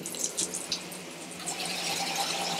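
A hotel shower in a premium suite runs with a steady, close hiss of spraying water that grows slightly fuller and more even partway through.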